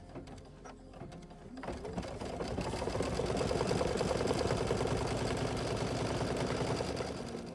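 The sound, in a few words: embroidery machine stitching leaves in green thread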